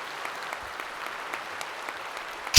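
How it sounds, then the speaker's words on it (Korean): Applause from a church congregation during a Sunday worship service, steady scattered clapping heard from across the room at moderate distance, with a sharp, louder burst right at the end. "박수 한번 쳐드리세요."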